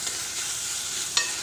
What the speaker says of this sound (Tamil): போட்டு இஞ்சி பூண்டோட பச்சை வாசம் போகிற அளவுக்கு நல்லா வதக்கிக்கணும்.